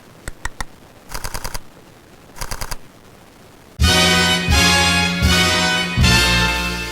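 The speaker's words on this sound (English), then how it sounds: "You can press it once and fire off a whole bunch of photos to capture what you need." A camera shutter fires rapid continuous bursts of photos while shooting a cat: a few quick clicks, then two short rattling strings, then a louder, denser sustained burst with tonal ringing, close and loud.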